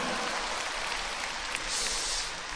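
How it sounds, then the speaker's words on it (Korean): Audience at a lecture applauding together, a dense, steady wash of clapping from a crowd that holds evenly for a couple of seconds without fading. "여러분들이 박수를 쳤지만은"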